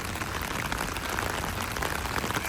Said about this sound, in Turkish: O yağmur aşırı hızlandı.